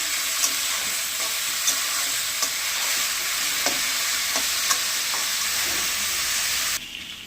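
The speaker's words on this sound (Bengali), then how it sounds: "আদা কুচিও দিয়ে দিলাম। একটু ভেজে নেবে এগুলো।" Chopped ginger, cabbage and carrot fry in a pan for vegetarian chowmein. A loud, steady sizzle and hiss runs close up throughout, with occasional soft stirring clicks, and it drops away sharply at the very end.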